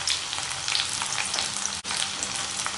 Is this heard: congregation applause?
no